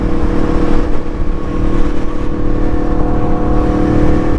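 A motorcycle engine with a new tune runs loud and steady up close, holding a continuous throaty drone with slight rises in pitch and no voices over it.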